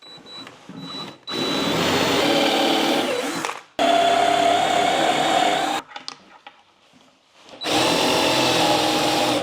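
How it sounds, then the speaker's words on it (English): A power drill whirs into wood in three bursts, drilling a pilot hole in a kitchen cabinet, with short pauses and faint handling noise between them. "Might drill a pilot hole this way and then finish it going through the front."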